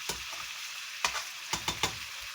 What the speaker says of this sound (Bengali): মাংসটা এরকম হয়ে আসছে। এটাকে ভালো করে কষাতে হবে।